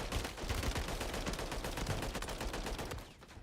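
Sustained rapid gunfire in a video game, loud dense bursts of automatic weapon shots rattling continuously with no talk.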